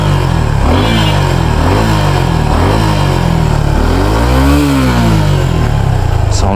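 A Suzuki Gixxer SF 250 motorcycle engine runs loud and close, its revs swelling and dropping in smooth waves over a steady mechanical drone.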